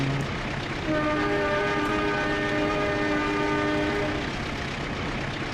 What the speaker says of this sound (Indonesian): Delapan K bunyikan suling.